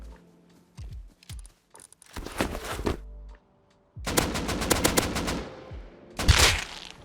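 An AK rifle in an online survival game fires in short, sharp single shots and then sustained rapid bursts during an ambush, loud and close, with crisp cracks and brief pauses between volleys.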